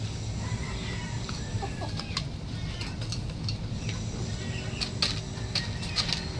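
Purebred buff Orpington chickens cluck and call in a farmyard, a steady busy chorus of hens with scattered sharper squawks rising above a constant low background.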